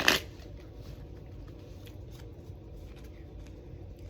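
Osho Zen tarot cards being shuffled by hand: a sharp riffle at the start, then a steady, soft papery rustle that continues throughout, close and with no talking.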